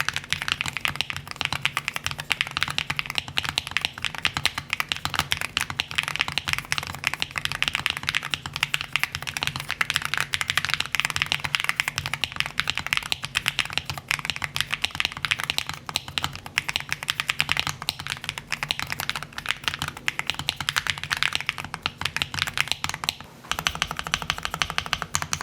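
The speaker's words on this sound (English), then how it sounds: "We've just finished building an actual monster keyboard, so I think it's time for the sound test." Fast, continuous typing on a custom-built Wooting x Optimum keyboard with Gateron switches gives crisp, even clacks close to the listener. The keystrokes run steadily for the whole stretch and ease off briefly near the end, with no one talking.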